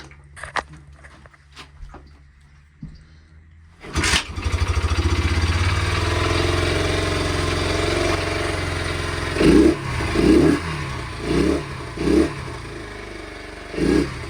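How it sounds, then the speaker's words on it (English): A Honda XL100S motorcycle single-cylinder engine, freshly rebuilt with a new timing chain, starts after quiet shuffling, then idles steadily up close with several short throttle blips near the end. "I wanted to show that after all the work I did the bike runs anyways"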